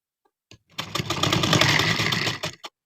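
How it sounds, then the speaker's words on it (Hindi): Sewing machine stitching elastic into a trouser waistband: one close, continuous whirring run of about two seconds, preceded by a few faint clicks. "कितना प्यारा यूनिक तरीके से सिलाई हो रहा है।"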